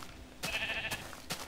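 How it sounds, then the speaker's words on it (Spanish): Sheep in Minecraft bleat in a couple of short, nasal calls close by, separated by brief pauses over quiet game ambience. "ya que tengo aquí unas preciosas ovejas"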